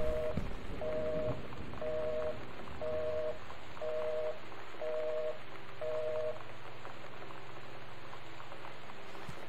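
Telephone dialing tones in the Gone Home video game: a steady run of seven evenly spaced beeps, clear and close, over a low background hum with no talking.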